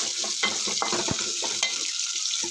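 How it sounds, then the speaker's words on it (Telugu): Onion pieces fry in a pan for semiya upma, a close continuous sizzle with quick stirring scrapes and clinks of a spoon against the pan. "ఉల్లిపాయ ముక్కలు వేసుకొని కొంచెం వేగనిద్దామండి"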